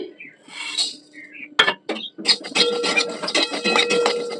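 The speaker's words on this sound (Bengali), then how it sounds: "তো মশলাগুলো কড়াইতে দিয়ে দিচ্ছি।" Whole spices drop into a dry kadai in a home kitchen. A sharp metallic clink comes first, then a run of scattered rattling and clattering as they land and are stirred against the metal, close up.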